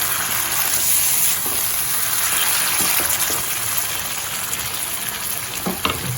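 Loud, steady sizzling and hissing as water hits a hot pan of ridge gourd masala, a continuous bubbling frying noise close up with no talking.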